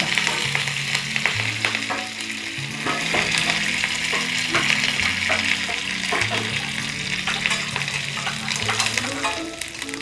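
Mustard seeds, fenugreek, dried red chillies and curry leaves fry in hot oil as a tempering for Kerala sadya kurukku kalan, giving a dense, steady crackling sizzle up close with occasional stirring, and no talking.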